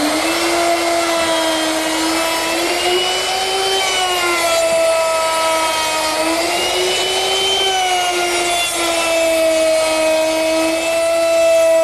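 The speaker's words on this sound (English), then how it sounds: "round over all the edges with a 1/2 inch round over bit." A router fitted with a 1/2 inch round-over bit cuts along the wooden edges of a picnic table with a loud, steady high-pitched whine, its pitch dipping slightly as the bit bites into the wood, close and continuous.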